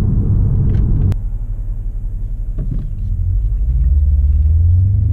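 A BMW M5 Competition sedan is driven in Sport Plus mode, with deep low engine rumble from inside the cabin, a sharp click, then the drone swelling as the car accelerates.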